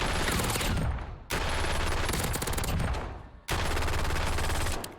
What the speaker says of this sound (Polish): No to zobaczcie, jak szybko strzela ladra.